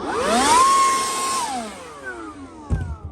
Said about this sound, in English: The next most common one that I use is this blower right here.